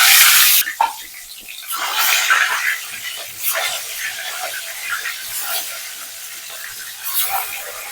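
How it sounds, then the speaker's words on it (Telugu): Eggs fry in hot oil seasoned with turmeric, giving a steady broadband sizzle with small crackles that stays at a moderate level throughout, with no talking. "అందుకే కొంచెం అయితే వీటిని ఇలా వేయించుకుందాము"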